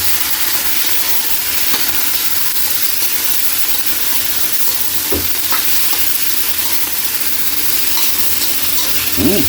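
Octopus adobo frying and sizzling in a pan while being stirred, with a steady loud hiss throughout, a few scraping knocks from the utensil, and a brief clatter right at the end.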